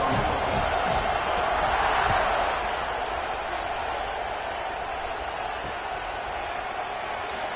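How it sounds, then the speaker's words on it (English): Stadium crowd in the College Football 26 video game at kickoff, a steady loud roar of cheering and crowd noise that holds throughout and swells slightly early on, with no commentary over it. "They're set to kick it off, and this crowd now ready to get behind them."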